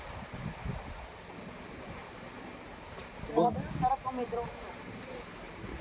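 Steady wind rushing and buffeting against the microphone outdoors, with people talking briefly over it.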